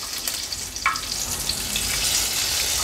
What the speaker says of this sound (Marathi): आलं, लसूण आणि मिरची छान आपल्याला परतून घ्यायची आहे।